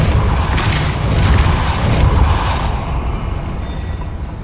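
A Depulso spell cast in Hogwarts Legacy, heard as a loud, sustained mechanical rumble with booming, creaking texture that fades gradually toward the end, with no talk over it.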